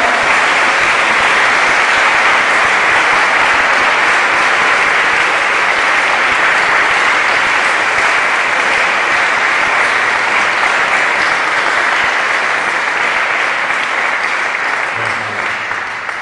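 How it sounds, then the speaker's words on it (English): A concert audience in Naples gives long, loud, continuous applause for a university multimedia group, the dense clapping holding steady throughout with no talk over it. "I wish you a big applause for them"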